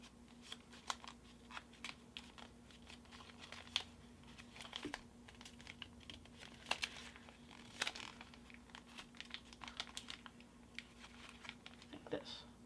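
Origami paper being folded and creased by hand, quiet crinkling and soft taps in an irregular rhythm, close up, with a faint steady hum underneath.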